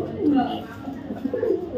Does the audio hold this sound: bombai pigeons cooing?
yes